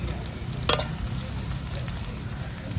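Small dried fish frying in hot oil for a sorrel leaf (gongura) pickle, giving a steady close sizzle with a brief burst of stirring scrape partway through, no talking.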